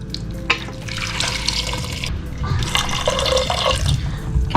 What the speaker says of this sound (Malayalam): നമുക്ക് കുറച്ച് വെള്ളം ഒഴിക്കാം.